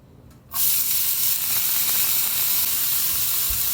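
A finely chopped medium onion hits a hot pan over medium heat, bursting into a steady, close sizzle that holds for several seconds with faint crackles.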